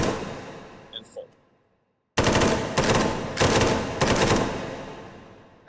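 Full-auto gunfire in a first-person video game, arriving as three long, loud, close bursts separated by brief pauses, preceded by a couple of faint mechanical clicks and a short silence.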